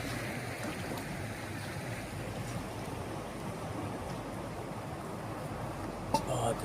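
The Salgi river in the Narmada region near Dindori flows with a steady, even rush of water that continues without a break, with a faint knock near the end.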